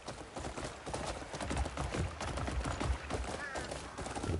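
Horse hooves gallop in the video game Crimson Desert, a fast continuous clip-clop close and loud, mixed with game sounds and occasional talk.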